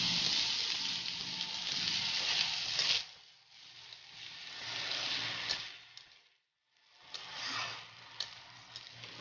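Bay leaf, dried chilli and chopped ginger tempering in hot oil for khichuri, a steady close broadband sizzle with a brief drop to near quiet before the crackle resumes.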